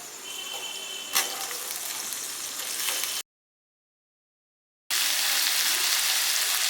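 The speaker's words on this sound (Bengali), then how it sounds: "লতিটারে পেঁয়াজের লগে ভালো করে একটু হালকা করে ভাজা নেবো" Taro stolons (kochur loti) fry with onion in a pan, a steady, bright sizzle with a brief stir clink, broken by a short silent gap before the sizzling resumes just as strong.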